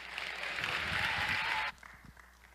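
An audience in a chapel claps steadily for over a second and a half, then the applause cuts off abruptly, leaving a quiet room with faint rustling.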